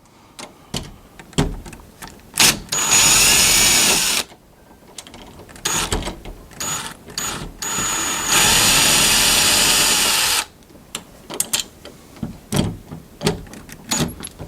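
A power drill whirs in two long bursts removing doorknob screws, separated by clicks, clunks and ratcheting handling noises of door hardware being worked on up close.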